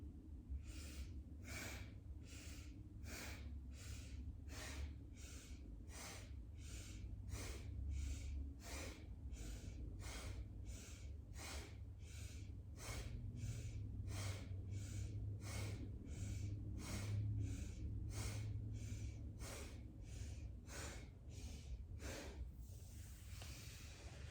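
Rapid, forceful nasal breaths during a Kriya yoga breathing exercise, sharp rhythmic puffs repeating about once a second for the whole stretch, close and loud, over a faint low background and no speech.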